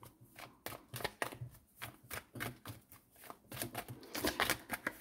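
Tarot cards are shuffled by hand in a run of crisp riffling and slapping bursts, fairly close, uneven in rhythm and steady across the stretch, with no talk.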